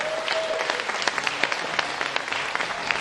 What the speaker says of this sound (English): Can we have a big round of applause for our guest presenter and host extraordinaire, Sakina Sheikh, everybody?